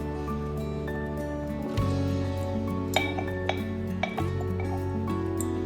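Extra virgin olive oil from a fresh bottle poured slowly into a glass jar of hot red chilli peppers, with a few soft glassy clinks and drips over a steady low hum.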